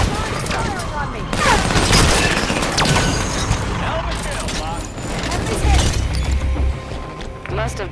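Dense, continuous gunfire from Halo 5 video game combat, with bursts and booms layered over music and battle noise, while voices call out under the shooting.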